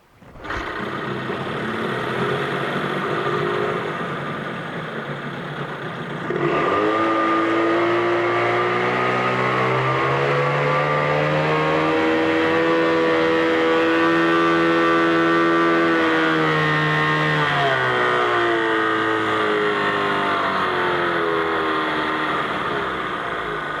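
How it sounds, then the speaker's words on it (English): A 2001 Johnson 9.9 hp tiller outboard boat motor runs steadily on its own, its pitch rising and falling as it revs, loud and close for about twenty seconds. "Great running little engine."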